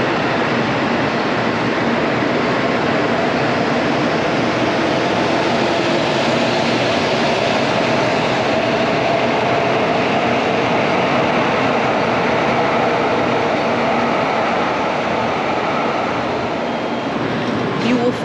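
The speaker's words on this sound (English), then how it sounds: "This one behind me is leaving." Shinkansen bullet train pulling away from a station platform, a loud, steady broadband rush and hum that holds evenly throughout, with no voices over it.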